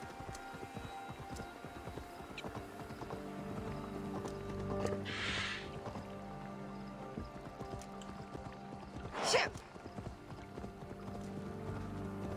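Horse hooves clip-clop at a steady walking rhythm in Assassin's Creed Valhalla, a moderate, continuous patter over quiet game ambience with a couple of brief swells.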